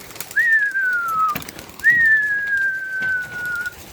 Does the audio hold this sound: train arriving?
no